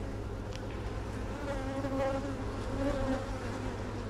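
Honey bees buzz steadily at an open hive during a brood frame inspection, a dense continuous drone close by with a few individual bees whining louder as they pass near.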